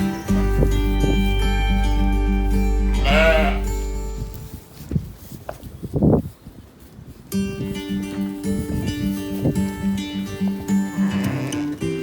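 Sheep bleat at a sheep farm in Orvelte village in the Netherlands, a few calls standing out over a steady, tonal background drone.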